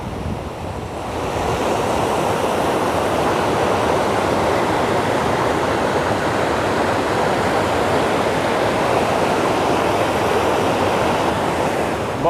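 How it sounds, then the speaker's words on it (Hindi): Steady roaring rush of a waterfall at Basantpur picnic spot, Simdega, Jharkhand, loud and continuous, with a dense broadband wash and no voices. "आप लोग को इधर दिखाते हैं वाटरफॉल।"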